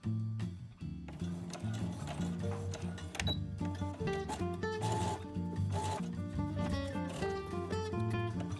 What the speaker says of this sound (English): See where I'm sewing along that pocket fold seam?